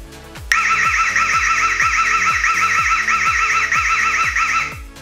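IMOU Cruiser Wi-Fi camera alarm siren blares loudly, a warbling electronic wail that starts abruptly and holds for about four seconds before stopping, over faint repeating clicks.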